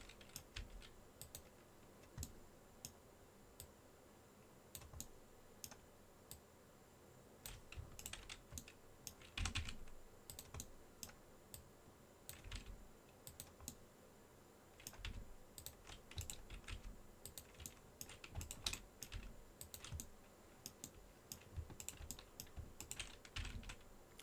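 Computer keyboard shortcuts tapped while 3D modelling a toilet paper octopus, with scattered quiet key clicks and short bursts of typing over about 24 seconds against a faint steady room hum.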